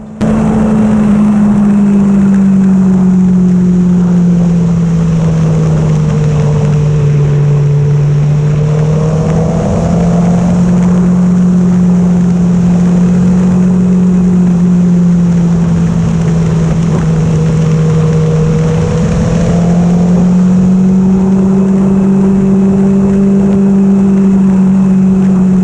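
A 2019 BMW S1000XR motorcycle riding along Route 31 in southern New Hampshire, its engine droning loudly and continuously with rising and falling pitch as it shifts and accelerates, heavy wind rush throughout.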